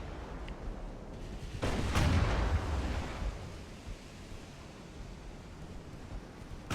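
An 8-inch naval gun on a cruiser fires once in Ultimate Admiral: Dreadnoughts, a sharp blast rolling into a deep rumble that fades into steady sea and wind noise.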